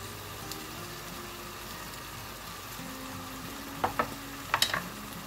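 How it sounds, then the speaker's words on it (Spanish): Diced potatoes with ham, pancetta and bacon sautéing in a pan with tomato paste, giving a steady low sizzle with a few light scraping stirs near the end. "Vamos a rehogarlo todo bien, las patatas ya con el jamón, la panceta, bacon"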